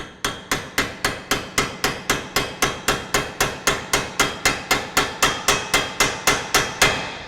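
A hammer taps a coolant pipe fitting into its housing on a Porsche 996 cooling system. About two dozen sharp, evenly spaced metallic knocks come close and loud at a steady quick rhythm, with no talk over them.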